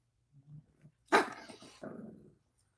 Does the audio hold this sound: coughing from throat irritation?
no